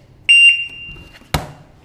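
An electronic start beep at a shooting competition sounds as a loud, sharp tone lasting about a quarter second. A shorter chirp follows, then a sudden sharp bang near the end.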